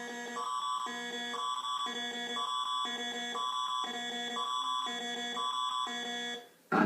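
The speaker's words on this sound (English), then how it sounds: "This is the real alarm used for Amber Alerts, and the alarm used for the emergency broadcasts." A Canadian Ontario Amber Alert emergency broadcast alarm tone: a harsh electronic signal pulsing in a steady repeating pattern about seven times, loud and alone, then cutting off abruptly.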